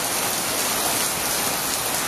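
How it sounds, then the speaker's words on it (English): Heavy rain pours down in a dense, unbroken hiss, loud and steady with no pauses, falling on plants and surfaces outdoors. "Wow! Quite a downpour."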